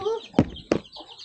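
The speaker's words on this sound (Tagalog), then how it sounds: "yan ang ating mga inahin manok" Hens clucking on a Filipino farm while being fed, with two sharp knocks among soft, close clucks and faint background chatter.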